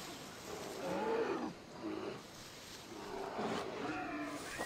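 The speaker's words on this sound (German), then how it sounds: "Ich höre doch schon wieder einen Bär." Bear roaring in Assassin's Creed Odyssey: a few drawn-out growling roars in bursts over a faint outdoor ambience, moderately distant, no talk.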